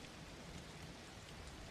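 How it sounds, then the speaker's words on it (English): Steady rain falls alone with no voices, a soft, continuous broadband patter at low level, with a faint low rumble that may be distant thunder. "as the rain continues"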